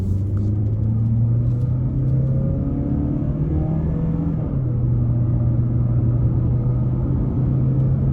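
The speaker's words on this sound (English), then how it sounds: "We'll just lean into the gas pedal about halfway as soon as we get the chance." A 2022 Mazda CX-30 Premium accelerating at half throttle, its engine a loud, steady rumbling drone that rises in pitch, drops at a gear change midway, then climbs again, heard from inside the cabin with no talking.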